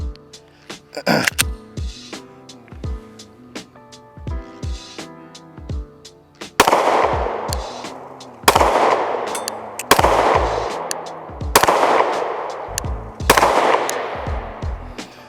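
Pistol shots ring out at an outdoor range while red dot sights are tested. A string of sharp, close reports comes first, then five louder, evenly spaced shots, each with a long echoing tail.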